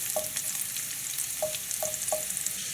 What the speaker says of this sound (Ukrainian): у нас чесничок піджарився